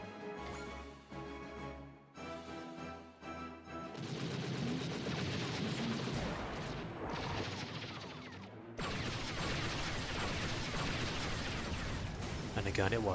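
Gunfire from a robot's gun attack in the mobile game Super Robot Wars DD, with rapid shots and bursts over music and game effects that build into dense, loud firing.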